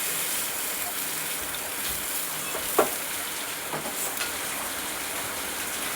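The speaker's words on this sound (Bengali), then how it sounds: "পাঙাশ মাছ প্রচন্ড তেল ছেড়ে, তাই ঢেকেই ভাজা করছি।" Pangas fish fries in plenty of oil in a covered pan, giving a constant soft hiss broken by a couple of sharper pops and spits.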